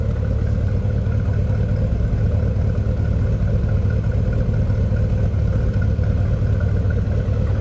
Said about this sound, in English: Nice deep exhaust note